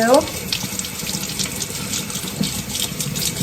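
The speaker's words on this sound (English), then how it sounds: "I'm gonna go ahead rinse this out because she's got some pulp in them too" Tap water running steadily while TUUMIIST juicer parts are rinsed in a sink, a close, continuous splashing hiss with slight changes as the pieces move under the stream.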